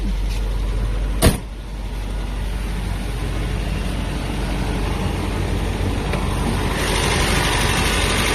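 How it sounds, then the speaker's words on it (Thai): A sharp click, then a Toyota Corolla KE20 engine settles into a steady low idle with a constant hum that runs evenly to the end, no voices. "สตาร์ทเครื่องให้ดูนะครับ"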